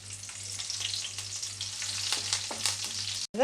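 Onions and curry leaves frying in hot oil with popping mustard seeds give a dense, continuous close sizzle with crackles and stirring scrapes, ending in a brief cutoff and a louder clatter.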